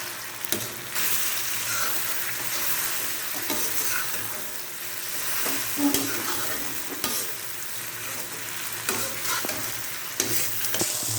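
Chopped tomatoes sizzle in a pan with bitter gourd and onions, a steady bright frying hiss throughout, punctuated by the scrape and knock of a spoon stirring, with no talk.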